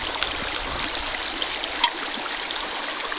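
Brook flowing outdoors on a day of trout fishing, a continuous close babble and gurgle of running water with a bright hiss and two small splashy bursts, no talking.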